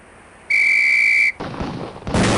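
During training in the video game Police Quest: SWAT, a single sharp, loud whistle sounds for nearly a second. Two close, booming shotgun blasts follow.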